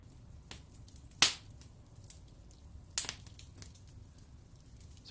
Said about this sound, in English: but there are some loud pops as the wood pops.